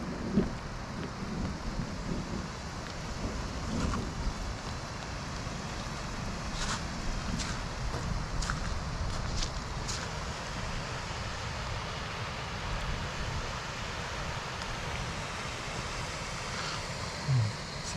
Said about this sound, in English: sound with the rain, a little bit of the wind